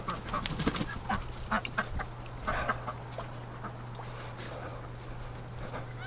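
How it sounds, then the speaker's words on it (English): Ducks in a barn on a frigid spring day quack in scattered bursts, with a steady low hum running underneath and busy clucking-like calls fading toward the end, fairly faint and without speech. "Oh, you're a silly little duck."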